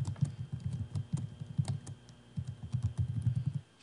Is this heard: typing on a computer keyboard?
yes